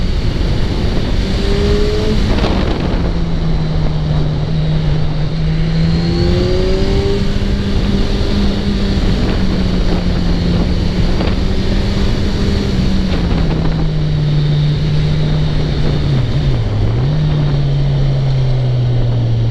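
A 2017 Kawasaki Z1000SX motorcycle engine drones loudly and continuously at full throttle, its pitch rising and falling through revs, with a steady roaring exhaust up close.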